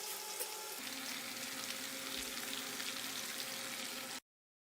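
Chicken pieces frying in oil in a pan while cooking spicy chicken, a steady close sizzle and crackle with no talk, cutting off abruptly near the end.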